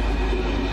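Passenger train pulling in alongside a station platform in Budapest, a steady loud low rumble of rolling wagons with constant rail noise throughout.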